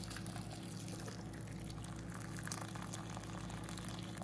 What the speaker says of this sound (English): I'm going to fill this up here with hot water